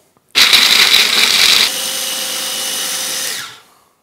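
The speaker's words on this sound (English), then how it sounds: "Go ahead and put your almonds in there and a little bit of sugar and just kind of grind this up." Electric grinder or chopper whirring through almonds and a little sugar, a loud sudden high-pitched motor whine that drops in pitch partway through as the load changes, then winds down and stops.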